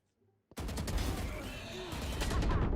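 Gunfire in the tactical shooter Valorant erupts abruptly after a near-silent moment, a dense, loud, continuous burst of shots and impacts that keeps building to the end.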